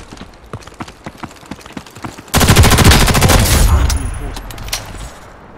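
Gunfire from the Ghost in the Shell video game starts with scattered single shots, then breaks into a loud sustained burst of rapid automatic fire that tapers off into a few more isolated shots.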